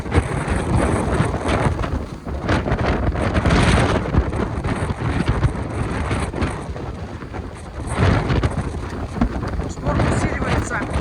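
Strong storm wind on a seafront promenade at night, roaring and buffeting the microphone in loud continuous gusts, with a person speaking over it.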